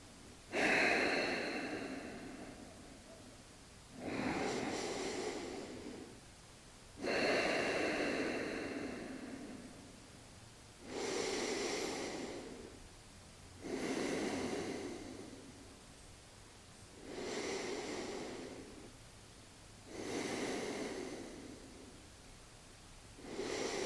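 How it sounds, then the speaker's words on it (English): Slow, deep breaths drawn in and pushed out through the nose during a yoga cool-down, seven or eight even breath cycles of a few seconds each, close and soft with no talking. "breathing in through your nose and letting your belly push the air back out through your nose if you can"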